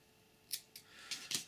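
Scissors snip fly-tying material at a tying bench, four quick crisp cuts in close succession, close up and fairly quiet, with no talking.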